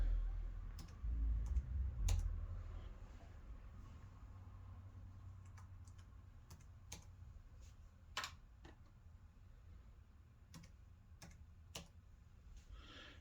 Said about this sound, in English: we'll type in M8 again